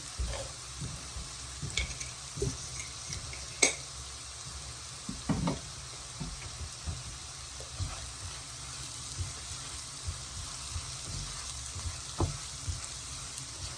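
Onions, carrot and sweet corn sautéing with salt in a pan, a soft continuous sizzle under intermittent spoon scrapes and light knocks against the pan.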